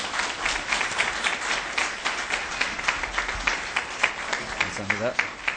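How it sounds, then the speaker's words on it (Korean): A church congregation gives a pastor a welcoming round of applause, dense sustained clapping from many hands filling the room, steady throughout with a voice briefly heard near the end. "이 시간 나오실 때 여러분 크게 박수로 격려해 주시면 감사하겠습니다"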